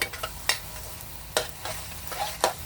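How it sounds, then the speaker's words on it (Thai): Glass noodles with chicken and cabbage being stir-fried in a pan, with a low sizzle broken by a few sharp scraping stirs of the spatula, close and fairly quiet, no voices. "ผัดให้สุกค่ะ"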